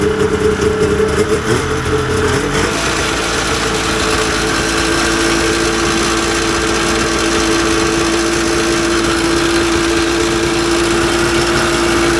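A vintage Polaris RXL snowmobile engine, a barn find with fuel injection trouble, runs loud and close. Its buzzing idle climbs a few seconds in, then holds steady.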